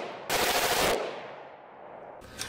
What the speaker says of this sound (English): bump fire.